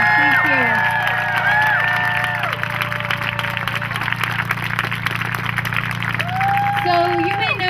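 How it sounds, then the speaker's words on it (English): An outdoor crowd at an anti-GMO food rally in Lafayette Park applauds and cheers for a speaker. Dense, continuous clapping runs throughout, with whistles and shouts on top and voices mixed in. "So one more round of applause for the amazing Vandana Shiva."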